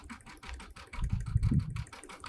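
Sewing machine stitching in the ditch through a quilt top, batting and backing: a soft, steady rapid chatter of the needle with a low motor hum that swells briefly in the middle, faint and close.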